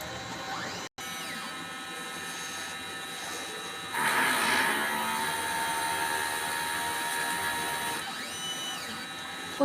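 A DTF printer's mechanical whirring and motor hum, with a louder grinding burst in the middle as the print head cycles through cleaning.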